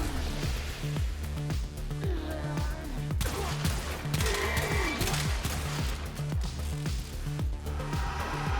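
Rapid bursts of Vasto Incarnon pistol fire in Warframe, dense repeated shots over a continuous bed of game effects and impacts, loud and close throughout.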